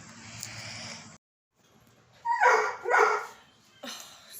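Simba, a dog worked up over puppies in the kitchen, barks excitedly indoors in a few loud, close bursts separated by short pauses, with a brief whimpering yip at the end.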